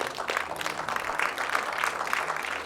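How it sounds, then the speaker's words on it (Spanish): A church congregation applauding: steady, fairly loud clapping from many hands, evenly dense and unbroken throughout. "Un fuerte aplauso al Rey"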